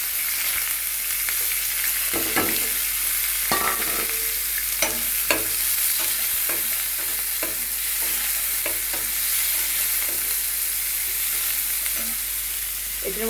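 Chopped onions frying in hot oil for kacchi biryani, a steady close sizzle with intermittent clinks and scrapes of a stirring spoon against the pan.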